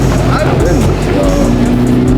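A 5.0 V8 car exhaust at a car meet, a loud, steady deep rumble with a rising whine on top, close by, while people talk over it.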